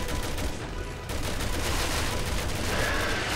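Rifle and shotgun fire in Resident Evil 6: steady, dense shooting that goes on without a break, mid-level and fairly close, with no talking.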